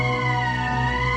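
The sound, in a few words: emergency siren in video game Valkyria Chronicles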